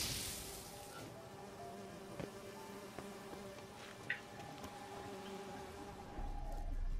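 A steady, faint insect buzz from bees at a beehive in The Witcher 3 drones on throughout, with a few small clicks and a low rumble near the end.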